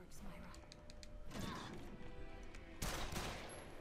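Gunfire in The Evil Within 2, with a couple of sharp loud bursts rising above a busy game soundscape and ambient mechanical noise.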